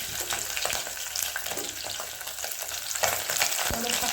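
Whole spices, including bay leaf, cinnamon sticks and star anise, sizzle briskly in rendered chicken fat for a home-style chicken curry, with close, constant frying crackle broken by scraping stirs and clinks of a spoon.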